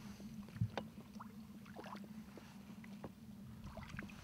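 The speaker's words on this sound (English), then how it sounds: "it's the noise of the boat" A steady low engine drone hums beneath splashing water and a few faint knocks aboard a reed boat at sea, continuous and fairly close, with no voices.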